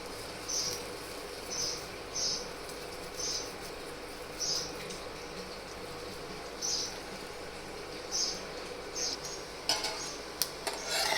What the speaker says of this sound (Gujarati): બંને સાઈડથી આ રીતે ક્રિસ્પી થાય ત્યાં સુધી આપણે તેને શેકી લેશું